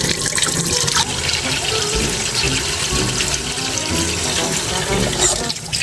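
Water pours from a tap into a water gun, a continuous close splashing and gurgling of filling liquid that runs steadily throughout.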